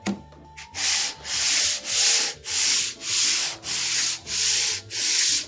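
A century-old Stanley No. 5 hand plane is lapped flat on abrasive, giving about eight steady, rhythmic back-and-forth rasping strokes, close and loud, each separated by a brief pause.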